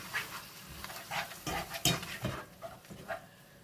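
A spoon stirring a gyoza filling of chanterelles and scallop in a bowl, soft irregular scraping and clinking strokes, close and quiet, with no talk.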